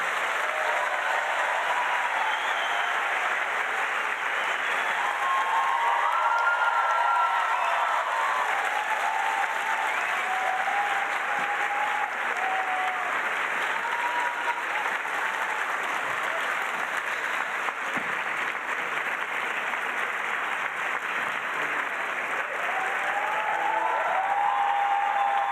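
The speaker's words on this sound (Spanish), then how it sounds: "Denle un fuerte aplauso a nuestras invitadas." Audience applause at a book fair talk, welcoming guest authors: steady, dense clapping from a large crowd in a hall that holds at an even level throughout.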